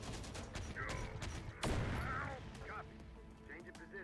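Combat in Terminator: Dark Fate - Defiance as an ATGM anti-tank missile fires, a sharp loud launch blast cutting through ongoing battle noise and scattered gunfire, with faint voices nearby.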